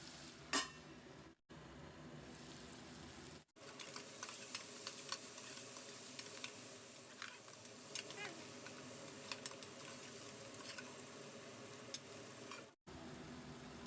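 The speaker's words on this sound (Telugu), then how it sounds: "ఇలా కలర్ మారే వరకు ఈ ఆనియన్స్ని ఫ్రై చేసుకుందాము." Onions fry in a pan while being stirred for a chicken pulao with green chillies. A steady, soft sizzle runs throughout, broken by scattered scraping and clicking from the stirring, with a few brief dropouts.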